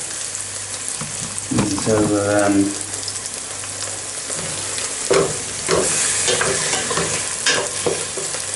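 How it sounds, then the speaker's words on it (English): Shaggy Parasol mushrooms and bacon frying in butter hiss steadily in a pan, with scraping stirs and utensil knocks on top; a voice speaks briefly near the start. "give that a stir"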